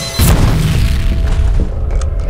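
A C4 charge detonates in the game F.E.A.R., a loud close boom with a sharp onset and heavy low rumble that slowly decays, with faint clatter afterwards.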